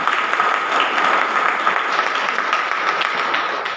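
Audience applauding children who took part in a Republic Day school programme: steady, dense clapping from a sizeable crowd, sustained evenly throughout.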